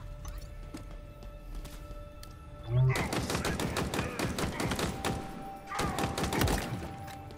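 Rapid bursts of weapon fire from Halo Infinite on Legendary difficulty, with dense, loud volleys and shots breaking out after a quieter stretch of game ambience, then a brief lull before another heavy burst.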